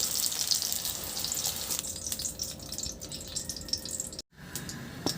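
Sliced eggplant frying in a wok, a steady bright sizzle throughout with a short break near the end.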